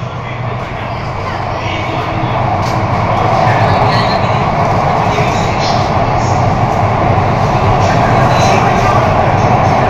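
Underground Mumbai Aqua Line metro train in motion, a continuous dense roar with tunnel rumble building over the first seconds, while someone speaks over the noise.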